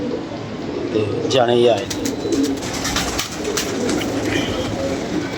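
Pigeons coo nearby in soft, rolling calls that repeat throughout, over a steady background hum, while someone talks across the sounds.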